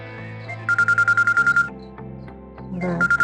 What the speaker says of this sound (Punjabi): ਫੋਨ ਆ ਗਿਆ ਸਾਬੇ ਦਾ